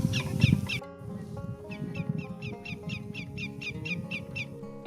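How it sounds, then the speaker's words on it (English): A greater yellowlegs calls from a lakeshore in a repeated series of sharp, whistled notes, fairly close and steady in rhythm over a low, busy background rumble. "there was a very vocal greater yellowlegs"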